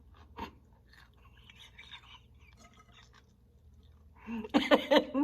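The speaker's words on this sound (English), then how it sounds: "They're so good. They're so crunchy." Raw carrots are bitten and chewed, with a couple of faint crunches early on and then a loud, close burst of crisp crunching near the end, after quiet whispery sounds.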